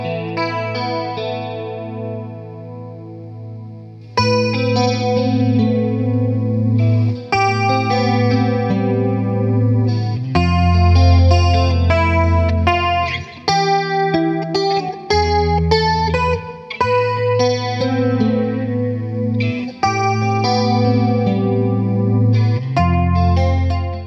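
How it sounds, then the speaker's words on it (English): Strat on neck and middle pickups through a Fender 68 Deluxe Reverb reissue amp with chorus, playing shimmering clean chords and arpeggios, bright and swirling, loud and unaccompanied for the whole stretch. "This guitar amp combination is my favourite for using chorus, particularly on the neck and middle position on the Strat."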